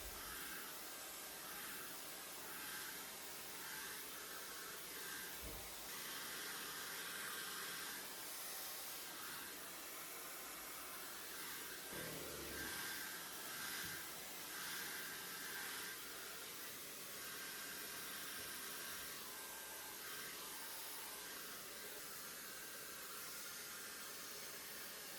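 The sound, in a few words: hair dryer blowing hair dry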